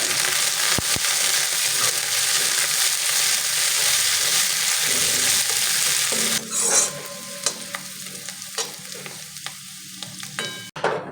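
Coriander seeds roast with a little oil in a small pan, making a loud, dense crackle and stirring rattle that thins after a few seconds into a quieter hiss scattered with pops and scrapes.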